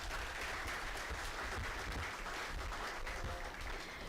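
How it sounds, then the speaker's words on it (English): Steady applause from the audience at the listing ceremony of Tridhya Tech Limited, a dense even patter of clapping held at moderate distance without a break. "So can we have a huge round of applause for Tridhya Tech Limited?"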